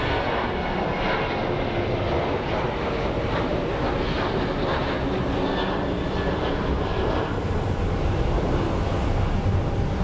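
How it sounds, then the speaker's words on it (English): An airplane passes at Sky Harbor International Airport, its engine a steady, loud broadband roar that fills the whole stretch without a break and with no voices over it. "That's such a beautiful plane."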